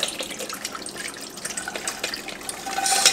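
Rendered beef fat is poured through a strainer, making a steady, faint trickling liquid stream with small splashes that grows slightly louder at the end.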